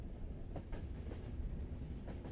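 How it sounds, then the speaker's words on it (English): Railway carriage wheels clicking over rail joints, a steady rumbling train ride with faint rhythmic clacks repeating under a constant low roar. "Behind him sounded the monotonous clicking of wheels on rails"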